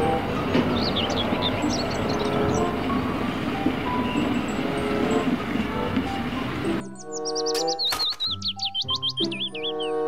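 Thomas toy train rolling along with a constant mechanical rattle and electronic chirping tones, then switching abruptly to a cleaner run of synthesized whistles and beeping melody near the end.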